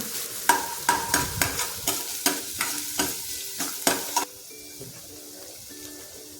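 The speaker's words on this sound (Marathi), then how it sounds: "त्यानंतर आपल्याला बारीक कट केलेला कांदा टाकून घ्यायचा आहे कांद्यालाही चांगल्या प्रकारे परतून घ्यायचं आहे" Finely chopped onion sautéed in a pan for masala Maggi: about a dozen rhythmic spatula strokes clink and scrape over a soft sizzle, then stop, leaving a faint frying hiss.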